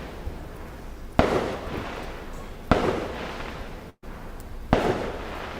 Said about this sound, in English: Fireworks, Remen.